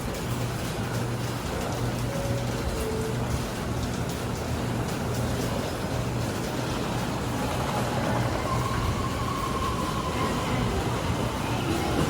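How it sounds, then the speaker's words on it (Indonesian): A train rumbles along steadily at Bandar Tasik Selatan, Malaysia, with a continuous loud roar and rattling, with no pauses throughout. "Kereta apinya jalan."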